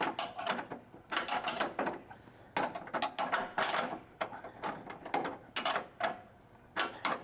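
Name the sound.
tightening upper control arm bolt with a wrench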